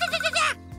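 A cartoon voice imitates an invisible dog howling: one short, wavering, tonal wail that breaks off after about half a second, followed by quiet.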